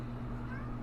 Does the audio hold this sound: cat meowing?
yes